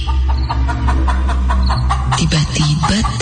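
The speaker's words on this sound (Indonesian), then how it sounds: "Suara ayam itu masih terdengar." Chicken clucking heard close by at an early hour near a house's front porch, repeated calls over a steady low hum, fairly loud throughout.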